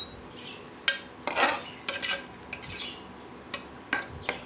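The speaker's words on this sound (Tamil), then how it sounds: "தயிர் சேர்த்துட்டு நல்லா கலந்து விட்ருங்க." A spoon stirs curd into masala in a pan for mint rice, giving a few separate scrapes and clinks against the metal, close and fairly soft, with no talking.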